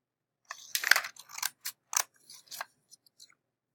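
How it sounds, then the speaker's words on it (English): Scissors snip out the paper tabs of a foldable, a quick run of close, crisp cutting sounds with small rustles between them and no speech. "I'm going to cut these tabs out as well on this side"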